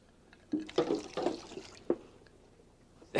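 Water boils in a flask under reduced pressure during a gas-pressure classroom demonstration, with a few irregular bubbling, gurgling bursts close by and a louder surge at the end, with no talking.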